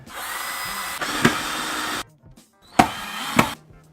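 Power drill driving self-tapping screws into a bike frame, heard as two sustained whirring runs, each ending in a sharp bite as the screw seats, with a pause between them.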